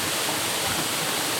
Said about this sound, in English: We're going in the waterfall.